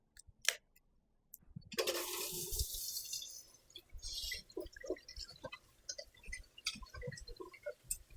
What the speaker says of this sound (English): I'm going to wash it off now before me peel it.